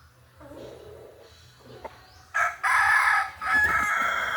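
A gamefowl rooster at a farm crows loudly and close in a single drawn-out call, preceded by faint clucks and quiet background murmur.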